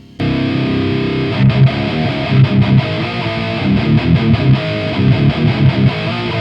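Heavily distorted electric guitar riff played through a Celestion G12T-75 speaker with the microphone polarity switched back into phase, loud, dense and sustained with rhythmic palm-muted chugs and no talking.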